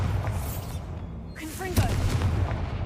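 A Bombarda blasting spell goes off in Hogwarts Legacy, a heavy booming explosion with rumbling low end amid spell whooshes and chirps, loud and near, with a second punchy burst near the end.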